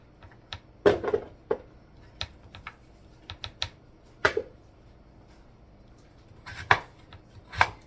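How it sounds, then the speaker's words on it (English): A knife chops potatoes on a board for home fries, in irregular sharp close taps with brief pauses between bursts of cuts and no voice over them. "and then I cut it in half again like that. Chop it up like that."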